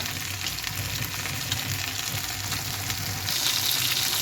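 Tilapia fish fries in hot oil in a home kitchen, a steady close crackling sizzle that carries on throughout, with no talking.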